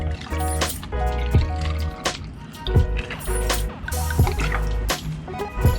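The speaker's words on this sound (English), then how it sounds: "put a lot of soda" Soda poured over plenty of ice into a glass for a Thai red syrup drink: a close liquid pour with fizzing, dripping and clinking ice, fairly loud and continuous throughout.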